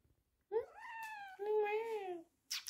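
A cat meows twice in a row, clear, close and fairly loud, drawn-out, wavering cries with a short gap between them, followed by a brief breathy noise at the end.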